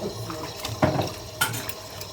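Water runs into a container for a second rinse of dough, a close splashing tap stream with a couple of brief louder gushes and no talking.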